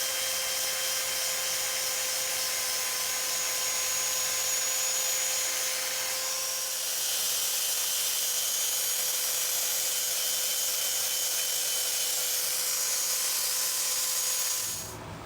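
An electric power sander works wood from 100 up to 320 grit, a continuous high whine with a steady tone that shifts once partway, cutting off near the end.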